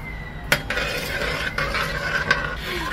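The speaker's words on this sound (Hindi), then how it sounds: "अब मैं इसे मिक्स कर रही हूं" Chicken drumstick marinade with garlic is mixed in a bowl, giving soft, steady scraping and stirring with a few sharp clinks of utensil against the bowl.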